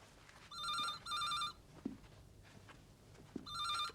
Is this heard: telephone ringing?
yes